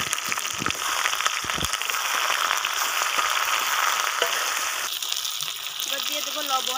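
Cumin seeds, bay leaf and chilli tempering in hot oil for a jackfruit curry crackle and sizzle steadily at close range, a dense hiss that eases slightly toward the end.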